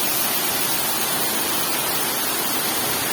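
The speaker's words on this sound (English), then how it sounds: "Beautiful, beautiful waterfall." Roadside waterfall pouring over stones, a steady broadband rush of falling water filling the whole clip, close and loud with no voices.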